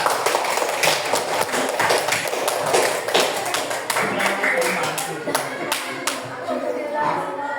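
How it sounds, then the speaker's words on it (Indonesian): A primary school class of mixed grade groups claps for a student group during a lesson, with dense, steady hand claps continuing throughout the clip. Some talk can be heard underneath. "Beri tepuk tangan"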